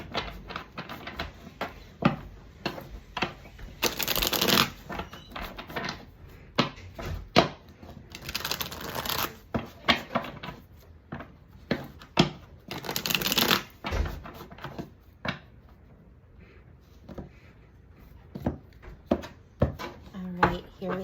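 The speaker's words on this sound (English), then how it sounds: "So let's just give a quick shuffle so you can see there's no funny business going on." Tarot cards being shuffled by hand in repeated riffling bursts, crisp and close, separated by quieter taps and handling noises.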